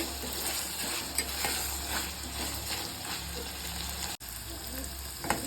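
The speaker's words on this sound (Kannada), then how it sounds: "ಸೊ ಈ ಥರ ನಾವು ಫ್ರೈ ಮಾಡ್ತಾ ಇರಬೇಕು" Ridge gourd chutney ingredients fry in a pan with a continuous close sizzle and occasional stirring scrapes, steady throughout with a brief dropout near the end.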